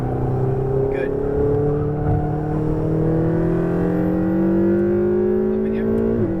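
A Ferrari 488 GTB engine on a race track, its revs climbing steadily under hard acceleration, a loud sustained rising drone with a sharp lift near the end.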